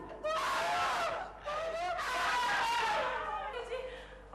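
A person screams in a Hindi comedy serial, with two long, wavering, high cries close by and a quieter trailing wail at the end.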